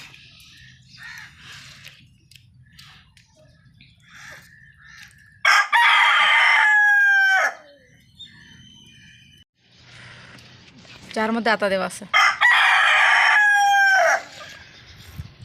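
A domestic rooster crows twice loudly and close, the long calls separated by quieter clucking and background sounds, with a brief bit of speech in between.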